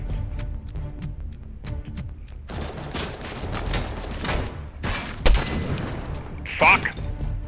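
Gunfire from the RoboCop: Rogue City video game, a scattered run of sharp shots and thumps at moderate loudness, heard under excited talking and game effects.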